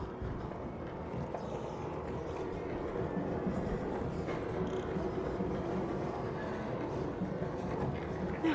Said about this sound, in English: How long does this fucking train take?